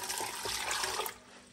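Water poured from a vessel into a cooking pot in a home kitchen while making Czech pork aspic, a steady close splashing rush that fades out near the end.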